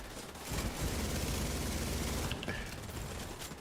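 Rapid gunfire from a multiplayer shooter video game crackles dense and loud for most of the clip, with a brief pause near the end.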